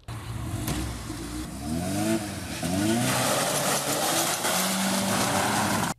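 A car leaves the scene of a crash with a truck on the BR-101 in Barra Velha, its engine revving hard in rising sweeps and its tyres squealing, loud and close over road noise.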